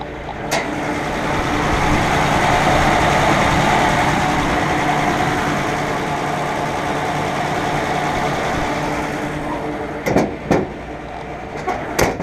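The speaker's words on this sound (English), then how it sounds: "The motor's really quiet." A 1952 Dodge pilot house truck, its old engine overhauled, idles in a smooth, loud, steady rumble close by, with a few brief knocks near the end.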